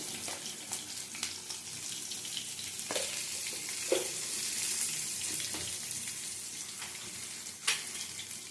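Parshe fish and eggplant fry in a hot pan with a steady, close hiss of sizzling oil, broken by a few sharp clinks and scrapes of stirring.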